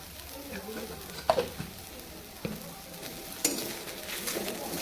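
Jute leaves frying with turmeric and salt, a soft steady sizzle under a few sharp scraping clacks of a spatula stirring against the pan.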